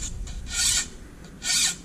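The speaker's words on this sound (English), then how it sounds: "this file isn't the right size of file to be cutting dang near a half inch wide saw blade" A metal file rasps across the teeth of a Victorinox hiker saw blade nearly half an inch wide, two distinct close strokes separated by a quiet pause.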